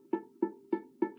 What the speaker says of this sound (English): if you're getting kind of a clunking sound like this